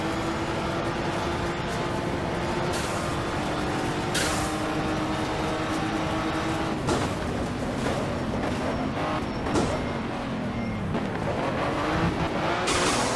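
Racing cars from the rFactor sim game with a Nissan Skyline mod roar steadily close by, the engine pitch rising and falling through gear changes and several engines overlapping, with brief tyre scrubs in corners and no talking.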